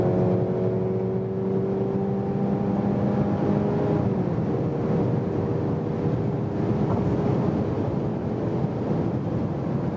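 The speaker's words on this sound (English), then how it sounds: "Mercedes C-Class C300 4MATIC, 40 kilometers an hour," Mercedes C-Class C300 4MATIC accelerating on a German Autobahn from 40 km/h, a steady interior engine drone with rising tonal whine, a gear change around four seconds, then continued hum under road and wind noise.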